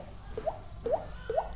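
A beatbox water-drop imitation made with the mouth: three rising, bubbly plinks in slow, even succession, close and clear over a faint hiss.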